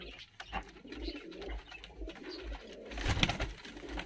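Fighting pigeons coo in a loft in Tbilisi, Georgia, with soft, low repeated calls that carry through the clip and swell louder and closer near the end.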